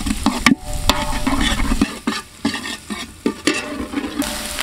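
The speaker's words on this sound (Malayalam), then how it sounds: "സവാള ആദ്യം നല്ല രീതിയിൽ വഴറ്റിയെടുക്കണം." Sliced onions sautéing in hot oil in a pan with stirring, a loud steady sizzle and frying hiss broken by scraping strokes, close up with no talk.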